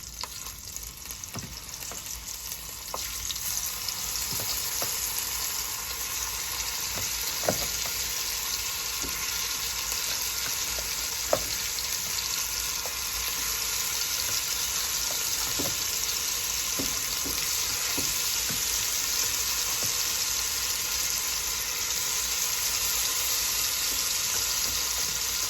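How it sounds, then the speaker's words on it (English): Chicken pieces frying in a hot pot for old-fashioned chicken and rice, a loud continuous sizzle with scattered crackles and the occasional clink of stirring, close and steady throughout with no talking. "so we're going to go ahead and add our chicken in."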